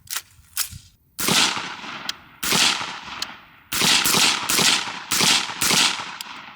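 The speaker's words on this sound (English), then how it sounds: "So we're gonna load up, shoot about 5-6 more shots," Suppressed shots from an 11.5-inch BCM short-barreled AR rifle with H2 buffer, several sharp reports spaced a second or so apart, each with a brief echoing tail, close and loud, preceded by faint mechanical clicks.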